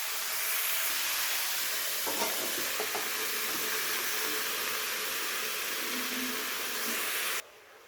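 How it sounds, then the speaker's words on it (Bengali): Mixed vegetables with spinach cook in a pan, giving a steady soft sizzle and hiss with a few faint stirring scrapes, close and even until the sound cuts off abruptly near the end. "এবারে সবজিটাকে ঢাকা দিয়ে কিছুক্ষণ রান্না করে নিতে হবে।"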